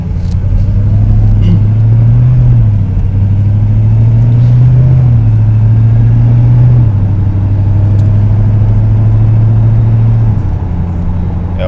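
A car fitted with a swapped 8HP automatic gearbox and MaxxECU accelerates in street mode on a cold transmission, its steady engine drone stepping smoothly down in pitch at several gear changes, loud and constant from inside the cabin.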